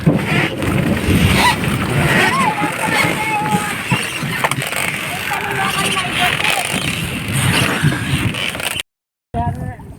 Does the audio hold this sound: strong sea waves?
yes